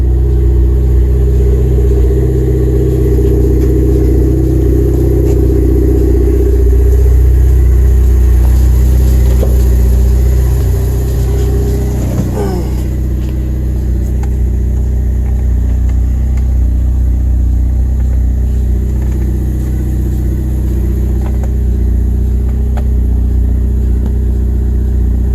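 A car engine idling steadily and loudly up close for the whole stretch, a deep even rumble with a brief rise partway through; the engine runs rich and needs tuning.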